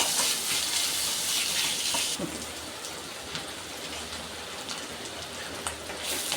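Onions and ginger-garlic paste fry in hot oil in a pan for an aloo samosa filling, giving a loud, steady sizzling hiss that continues without a break and with no voices.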